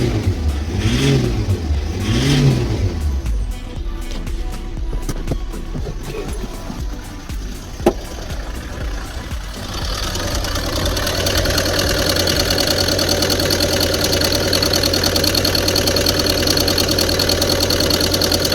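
Diesel engine of a 2016 Ford Transit Mk8 van, after glow plug and fuel temperature sensor replacement, revved in a few surging bursts, then held at a steady high-revving drone, loud and close with no talking.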